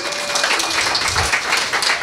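Audience at a live stand-up comedy show in Scottsdale breaking into steady applause, a dense wash of many hands clapping throughout, fairly loud and close with no talk over it.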